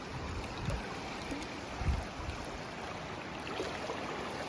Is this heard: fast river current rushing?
yes